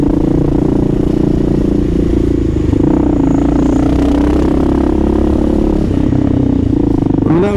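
Kawasaki KLR650 motorcycle with a deep, steady single-cylinder engine grunt held close and loud the whole time, pitch wavering slightly as it rolls along traffic, wind buffeting underneath.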